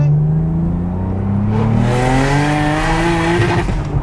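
A 660 bhp single-turbo BMW 335i engine revs hard past 7,000 rpm, climbing in pitch, loud and close, its roaring tone sweeping upward continuously with a faint whine above.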